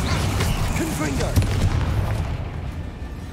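The Confringo blasting spell explodes in Hogwarts Legacy on PS5, heavy booms and crackling impacts amid dense combat noise, with a voice talking over it.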